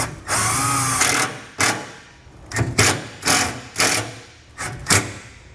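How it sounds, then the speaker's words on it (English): A power drill drives a self-tapping screw into the bracing of a 2021 Ford F-150 during a trailer connector install: one long loud burst, then several short, sharp whirring bursts with brief pauses between. "I'm just going to take a self-tapping screw here and I'm just going to run it into this bracing."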